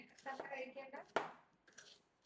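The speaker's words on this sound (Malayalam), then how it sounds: "ക്യാരറ്റ് വട്ടൻ്റെ അരിയ," A knife slices carrots into rounds on a board in a home kitchen, giving a few quiet, crisp chops, with one sharper cut in the middle against a low, soft background.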